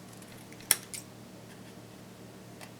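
Sharp single snip of scissors cutting paper for paper bead pendants, one crisp close cut followed by a softer second snip, then quiet.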